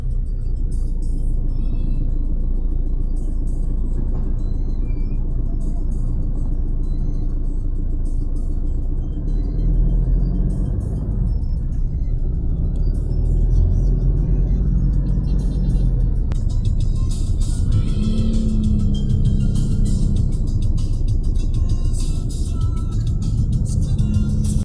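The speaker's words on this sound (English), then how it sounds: "Traffic, you see, heavy traffic." Heavy road traffic in Balibago, Angeles City: a dense, continuous rumble of cars and larger vehicles passing close by, with engines swelling now and then, loud and unbroken, with no voices.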